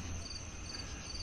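Crickets chirp steadily through a quiet rural night among huts, a faint continuous high trill with soft low background hum and no voices.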